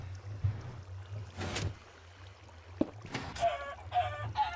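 A chicken in a Minecraft-style video game gives a few short, faint clucks near the end, over a low background hum and a soft splash-like swell earlier.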